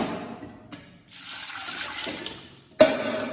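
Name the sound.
measured water being poured into a pot for rasam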